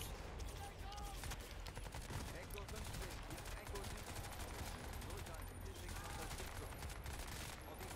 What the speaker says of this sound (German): Oh, scheiße, ich habe einen Beschuss.